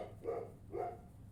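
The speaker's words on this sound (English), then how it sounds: "I don't know what my dogs are barking at out there" Dogs barking outdoors at a distance, two faint, muffled barks spaced about half a second apart against a low background hum.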